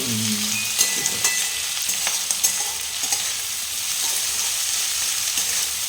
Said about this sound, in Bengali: একটু লাল করে ভেজে নিতে হবে